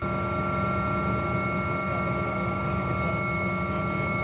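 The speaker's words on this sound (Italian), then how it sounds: "Ecco il sopralluogo aereo dell'elicottero Drago 149 dei Vigili del Fuoco nella zona del porto gruarese." Vigili del Fuoco firefighting helicopter Drago 149 flying over a harbor area, a constant droning engine and rotor hum held steady throughout without speech.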